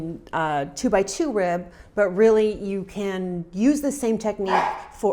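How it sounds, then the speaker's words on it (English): A dog barks a few times in the background, partly masked by someone talking over it, with a brief yip standing out between her phrases. "that was a dog"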